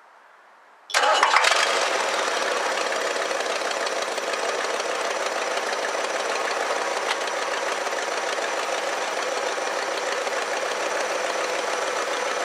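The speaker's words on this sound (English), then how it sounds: "So let's fire it up." A 1969 Lincoln Mark III, a barn find under a tune-up, cranks and catches after a second of quiet, then settles into a loud, steady, even idle that runs unbroken to the end.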